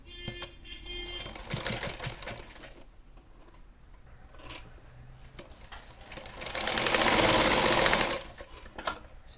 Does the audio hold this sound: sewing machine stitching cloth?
yes